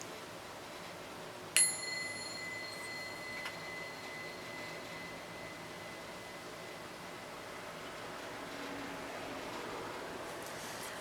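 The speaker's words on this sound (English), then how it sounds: "I'm getting the bell because we need to clear our space before the reading" A single bell is rung once to clear a space before a reading. It gives a sharp bright strike that rings out and decays over a couple of seconds over a quiet room hiss, with a faint second tap shortly after.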